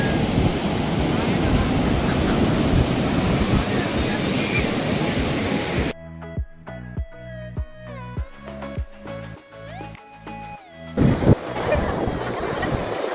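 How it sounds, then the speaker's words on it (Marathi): Loud wind-blown surf and crashing waves on a beach at Puri, Odisha, interrupted midway by a few seconds of music with steady beats, then the roaring sea returns. "आपण बघू शकता जिकडे नजर जाईल तिकडे दिसतोय आपल्याला समुद्र"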